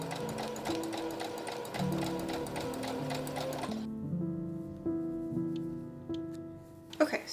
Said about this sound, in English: And stitch them to the dress.